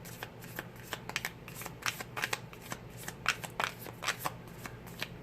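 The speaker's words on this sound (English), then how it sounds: "I'm going to pull some cards from the Island Wellness deck here." Island Wellness oracle cards being shuffled by hand, a soft continuous riffle of flicking card edges with small irregular slaps, close and steady throughout.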